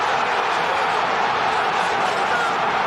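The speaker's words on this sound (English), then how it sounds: "And just listen to this crowd" Large football stadium crowd roaring and cheering after a goal, a dense, steady wall of noise from thousands of fans, loud and continuous throughout with no clear breaks.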